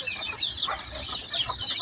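Two hens brooding fifty chicks together under a warming light: a busy chorus of high chick peeps overlaps with soft hen clucks, close and continuous.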